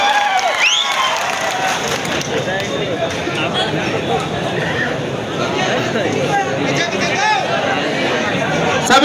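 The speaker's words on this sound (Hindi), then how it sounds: "कमलेश चिटोडियार, इनके लिए जोरदार तालियों से स्वागत करें साथियों" Steady applause from a large crowd, loud and continuous throughout, with voices and chatter mixed in.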